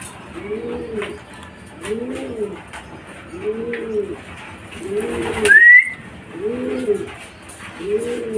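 Racing pigeons coo in a regular repeating pattern at a loft during club training arrivals, the calls near and clear. A brief higher chirp breaks in midway.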